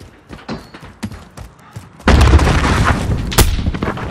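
A frag grenade going off in Call of Duty Modern Warfare (2019) multiplayer, a loud booming blast that bursts in midway and rumbles on, preceded by scattered thumps and game noise.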